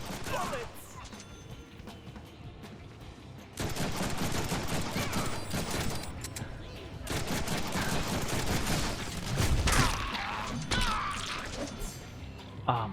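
Rapid bursts of gunfire in the Deadpool video game, loud and busy, with crashes and thuds mixed in and a person speaking over parts of it.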